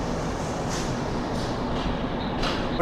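Godavari SF Express running after leaving Vijayawada Junction, a loud continuous rumble of rolling coaches heard from inside, with faint rattles and clicks over the drone.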